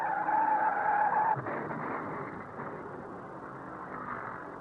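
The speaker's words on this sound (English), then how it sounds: "Uh-oh, he's sliding. Baker's out of control." A race car at the 1976 Southern 500 slides out of control, its tires skidding with a loud sustained screech that cuts off abruptly, leaving a fainter engine and track roar behind.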